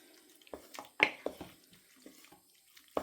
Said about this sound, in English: I've just got a touch of water in the bottom of that frying pan there just to get all the rest of the juices out.